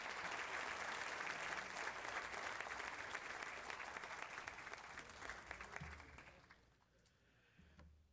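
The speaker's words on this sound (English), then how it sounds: "Please join me in one more round of applause for the 2025 Lakewood Youth Hall of Fame Athlete of the Year" A crowd applauds the Athlete of the Year at a youth hall of fame ceremony in Lakewood, a steady, fairly distant wash of clapping that holds for about six seconds, then tapers off into quiet room sound.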